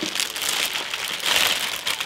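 Crinkling plastic packaging being handled and torn open on a boxed Issey Miyake fragrance, close and steady rustle with a louder crinkly burst midway, no talking.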